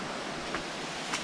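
Water rushes steadily down a waterfall in Lydford Gorge, a dense unbroken roar heard up close with no talking.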